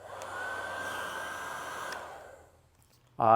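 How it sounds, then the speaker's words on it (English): A heat gun warms soft bait injector molds, giving a steady airy blowing hiss that fades out, then a sudden louder burst of noise right at the end. "Heat everything up with the heat gun."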